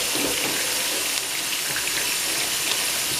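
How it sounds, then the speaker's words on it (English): Tap water runs steadily into a kitchen sink while dishes are washed, a close, continuous broadband splashing rush with no pauses or talk. "And I like to wash my dishes as I go."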